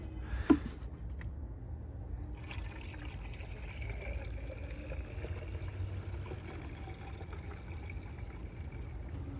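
Fluid trickles in as a vehicle reservoir is topped off by pouring. A soft, steady pour runs throughout, with a sharp knock near the start and low background hum.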